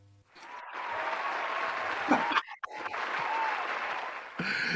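Steady applause from a crowd fills most of the stretch, with a brief pause midway before the clapping resumes and carries on.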